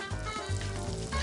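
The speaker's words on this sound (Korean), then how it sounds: "먼저 지글지글 버터향 솔솔 나는 구이부터 시작해볼까요?" Large pen shell clams sizzle in butter on a grill at a restaurant in Ocheon, a close, steady crackling fry with no talk.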